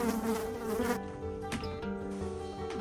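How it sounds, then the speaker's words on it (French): Flies buzz in a toilet, a steady droning hum with a faint whine, continuous and fairly close throughout. "Il y a même des mouches."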